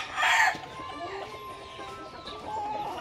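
Chickens cluck softly at close range, with a louder burst near the start, while someone talks quietly over them.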